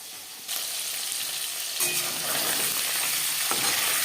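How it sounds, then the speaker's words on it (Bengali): Live tangra fish fry lightly in a hot pan of oil for a Bengali fish curry with potato and cauliflower. A loud, steady broadband sizzle bursts in abruptly and crackles on continuously to the end, with no voices. "জ্যান্ত মাছ আমি একটু হালকা করেই ভেজে নেব।"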